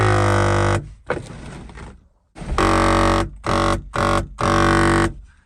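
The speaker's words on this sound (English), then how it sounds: "that is the sound of probably some gears slipping." Harsh, loud grinding buzz from slipping gears in an electric car sunroof that won't shut fully comes in repeated bursts separated by short pauses, like a struggling motor.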